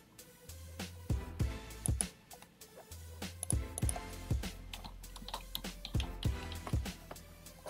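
Typing on a computer keyboard comes through as irregular clusters of sharp clicks and taps, fairly close, with soft low thumps under some keystrokes and no talk.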